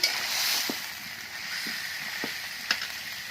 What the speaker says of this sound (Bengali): মাংসটাকে একটু নেড়ে চেড়ে